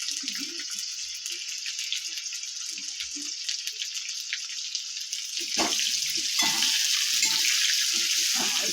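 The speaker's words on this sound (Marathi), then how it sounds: "कांदा चांगला फ्राय करून घ्यायचा आहे." Onion frying in a pan for kadai biryani, a steady sizzle with soft stirring and scraping, growing louder and fuller toward the end.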